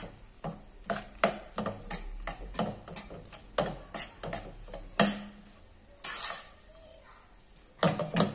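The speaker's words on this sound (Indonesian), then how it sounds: "Kacang tanahnya kita aduk-aduk terus dengan karamelnya sampai benar-benar menyatu." Peanuts stirred with caramel in a pan: a repeated scraping and knocking of a utensil against the pan in an uneven rhythm, close and alone, with a faint sizzle between strokes.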